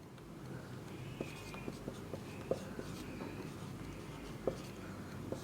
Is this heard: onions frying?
no